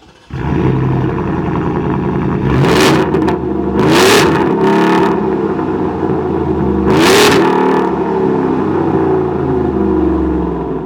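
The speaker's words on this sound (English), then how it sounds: "It is a new tune from Shelby this year on the Borla Performance exhaust. It sounds so mean and super gnarly." A 785 hp 2024 Ford F-150 Shelby Super Snake revs hard through its Borla Performance exhaust, with a loud, continuous engine drone broken by three or four sharp, gnarly throttle blips.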